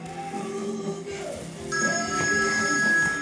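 A phone rings with a steady electronic tone that starts partway through, sounding over a background of music and ambient noise.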